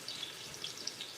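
Onions sizzle softly in a pan while cooking an Abo dry fish dish, a quiet, steady crackle with faint pops and no talk.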